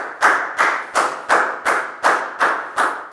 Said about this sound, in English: High five and a big round of applause for Pak Bung, please, guys